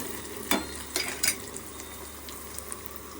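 Curry leaves and coriander dropped into hot oil for a tempering while cooking a gongura and raw prawn curry, giving a few sharp crackling sizzle bursts over a steady low frying hiss.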